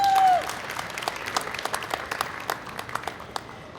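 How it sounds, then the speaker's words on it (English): Audience at a Boston Housing Authority event applauding the Youth Council after a voice trails off, scattered claps that stay light and uneven at moderate distance. "So can we get an applause for the Youth"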